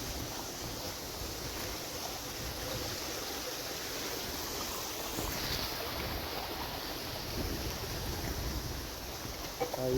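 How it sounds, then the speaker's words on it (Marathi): Small waterfalls flow near rainy rice fields, a dense continuous rushing of water heard close and steady for the whole stretch, with no talking. "छोटे छोटे वॉटरफॉल पाहायला मिळतील तुम्हाला. असं वॉटरफॉल आहेत."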